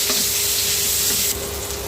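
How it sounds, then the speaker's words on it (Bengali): Radish frying in a pan, a steady loud sizzle with faint stirring scrapes, close up and continuous, no voices. "এখন আমি মূলাটা আরও একটু ভেজে নিব হালকা"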